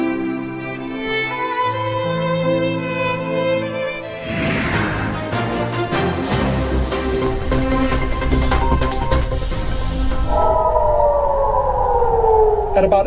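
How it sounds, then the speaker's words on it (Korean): An air raid civil defense siren sounds across Israel, with loud, sustained wailing tones over a dense, noisy wash, ending in a long falling glide. "아침 약 8시 15분경 이스라엘 전역에 공습경보 사이렌이 울렸습니다"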